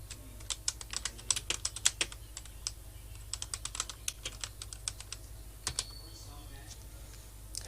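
Fingers typing on a computer keyboard: quick, irregular clusters of crisp key clicks with brief pauses, close up over a steady low background hum.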